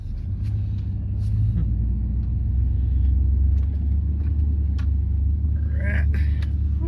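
A four-wheel-drive pickup truck climbs a steep road, its engine a steady, close, loud low rumble throughout while someone talks intermittently over it.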